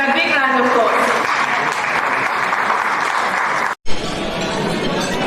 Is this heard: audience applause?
yes